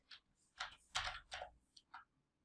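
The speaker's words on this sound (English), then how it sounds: "So I'm going to type the question here on this text box" Quiet computer keyboard typing: a few scattered soft key clicks and taps in short irregular bursts, close up, with no talking.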